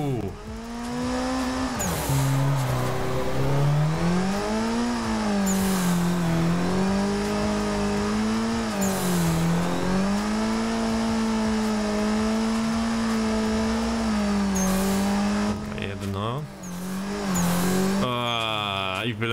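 Simulated car engine in Assetto Corsa held at high revs through sustained drift laps, a loud continuous whine rising and falling with throttle, with brief tire squeal bursts and shifts near the end.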